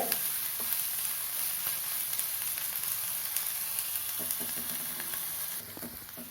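Onions sautéing until brown in a pan for a spicy red chilli dal, a soft, steady sizzle with scattered stirring scrapes, fairly quiet and without voices.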